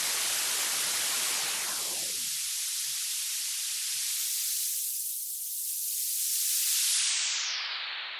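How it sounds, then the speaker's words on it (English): A continuous broadband white-noise hiss processed through a vocoder, sweeping and shifting in tone, its texture filtered and reshaped over time, steady and loud with no voices. "If we take white noise, for instance, we can give it more or less texture through a vocoder."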